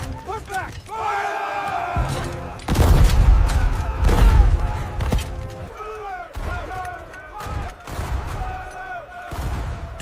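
A battle with musket and cannon fire gives repeated booming blasts and crackling volleys mixed with shouting voices and crowd noise, loud and continuous.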